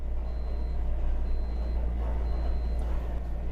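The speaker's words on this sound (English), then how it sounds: "Heard a strange beeping noise then, not quite sure why." Three evenly spaced electronic beeps sound over a steady low engine hum, like a vehicle's reversing alarm heard at a moderate distance.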